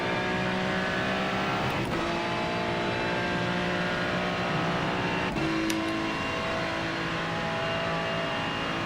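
BMW race cars in iRacing roar at full throttle around Bathurst, a steady loud engine drone with upshift dips near two and five seconds, no talking.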